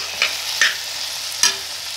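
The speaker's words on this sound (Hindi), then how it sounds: "तो उसके बाद हम लोग इसमें टमाटर भी डाल देंगे, और इन सभी चीज़ों को हम लोग अच्छी तरह से भूनेंगे।" Peas and tomatoes frying in a pan, a soft continuous sizzle broken by three short scraping strokes of a spoon stirring the mixture, close and without talk.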